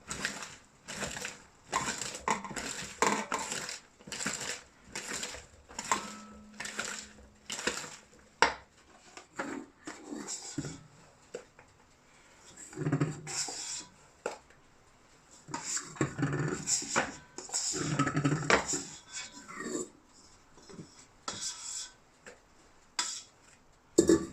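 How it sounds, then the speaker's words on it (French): Brownie batter is mixed in a bowl, with irregular clinks and scrapes of a utensil against the bowl coming in bursts and short pauses, fairly close and moderately loud, with no talk. "je mélange bien jusqu'à ce que ça devienne homogène"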